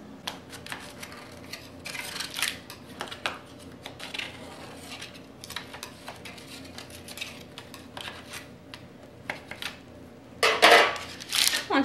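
A knife scraped around the inside edge of a cake pan holding a freshly baked yogurt cider cake, giving light metallic scrapes and clinks in uneven bursts, with a louder rattle near the end.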